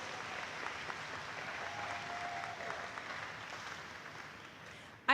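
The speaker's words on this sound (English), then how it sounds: "Please give all of them a round of applause." Graduation audience applause, a steady wash of many hands clapping at moderate distance, holding evenly before a sudden loud burst at the very end.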